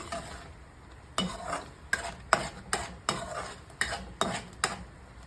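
A spoon or ladle stirs a tomato mixture sweetened with country sugar in a pan, making about ten sharp scraping strokes in a steady rhythm over a soft sizzle.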